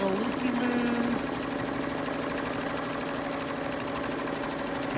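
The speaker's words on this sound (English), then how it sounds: "we're going to go ahead and stitch, moving fabric and template together, stitching all the way around these little loopy-loos" A sewing machine runs steadily, stitching quilt fabric around a pumpkin template, with a constant mechanical hum and rapid needle chatter, loud and close, without pause.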